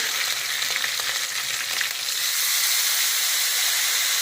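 Curry leaves, dried red chilies and turmeric fry in hot oil for temple-style puliyodharai, a loud, dense, continuous hiss and sizzle with a few crackling pops at the start, close and without talk.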